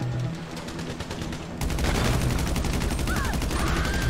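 Carbine rifle fire in GTA Online: rapid, evenly spaced automatic shots run throughout, growing louder and heavier partway through as the firing intensifies, close and dominant.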